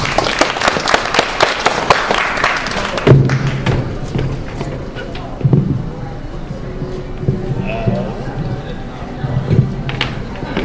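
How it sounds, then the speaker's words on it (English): An open-mic audience claps in a brief burst of many hands, which thins into scattered claps with talk and thumps on the stage as the next performer gets ready. "Round of applause, please."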